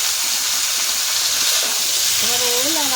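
Elephant foot yam and potato frying together in a pan, giving a steady, close sizzling hiss throughout with a brief voiced sound near the end.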